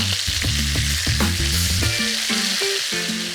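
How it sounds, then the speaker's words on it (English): Burgers fry in a pan with a steady, loud broadband sizzle, while low tonal hums and clattering knocks sit underneath and no one speaks. "Now these burgers are gonna cook for 3 to 4 minutes each side."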